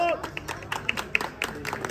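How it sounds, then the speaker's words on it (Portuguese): Applause and clapping from the crowd at a Brazilian freestyle rap battle semifinal, with scattered sharp claps over a dense background of crowd noise and talk. "Palmas de palmas de palmas."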